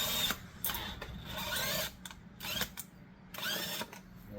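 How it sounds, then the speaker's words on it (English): A power drill with a larger bit bores a rivet hole on a lowrider bicycle build, running in several short bursts with brief pauses between them, close and fairly loud. "So we're gonna try this drill bit right here. It's a little bigger."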